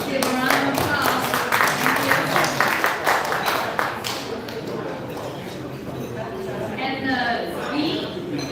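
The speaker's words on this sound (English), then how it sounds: "Give a round of applause." Audience clapping at a vehicle electrification and self-driving conference, a burst of brisk applause that fades after about four seconds into murmur and voices.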